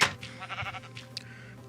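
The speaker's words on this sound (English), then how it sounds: "First sheep in the pen." Sheep bleating inside a pen in a survival island video game, a short wavering bleat with a second brief call, close and moderately loud over a low steady background hum.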